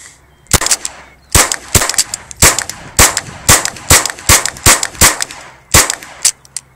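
A magazine of Velocitor rounds is fired one shot at a time, about a dozen loud, sharp close-range bangs at an uneven rhythm, with no talk.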